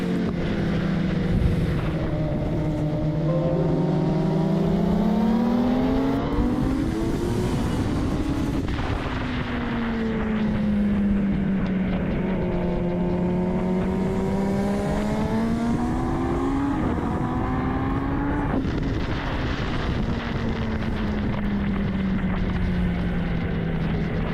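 On-board sound of a vintage open-class racing motorcycle lapping a track in wet conditions, loud and close, with the engine repeatedly rising through the gears, cutting off at shifts and dropping into corners before winding up again.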